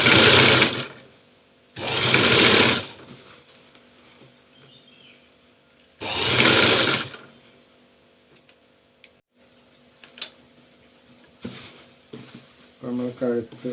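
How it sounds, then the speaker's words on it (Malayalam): A sewing machine stitches the neck of a saree blouse in three short, close whirring runs separated by pauses, with quiet clicks and handling between them. "നമ്മൾ കഴുത്ത് തയ്ച്ചിട്ടുണ്ട്."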